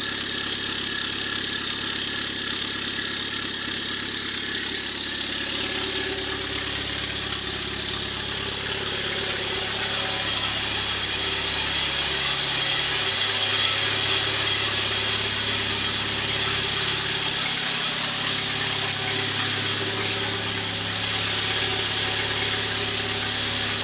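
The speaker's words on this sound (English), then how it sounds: "As you can hear, the exhaust is bad." A 2.2-liter Chevrolet S10 extended-cab pickup with a 5-speed, about 209,759 miles and a bad exhaust, idles close up, giving a steady, loud, unbroken engine drone with rough exhaust noise throughout and no talking.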